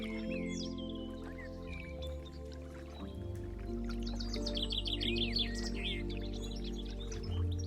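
Hawfinches and smaller birds call in scattered chirps and twitters at a water source on the Great Plains of Hungary, with soft drips and a steady low hum underneath.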